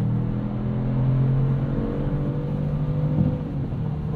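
A 2022 Kia Stinger GT's 3.3-liter V6 engine hums steadily from inside the car, a low, even drone that holds near constant with a slight swell partway through, no voices present.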